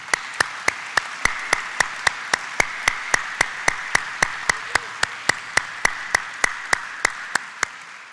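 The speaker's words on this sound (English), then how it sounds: "So I'll ask you to applaud all these people very warmly." Audience applause in a steady, rhythmic beat, sharp claps landing in unison at an even pace over a bed of crowd noise.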